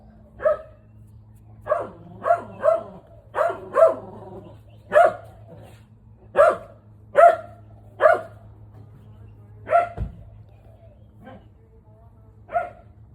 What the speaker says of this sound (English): and then the dog's going off.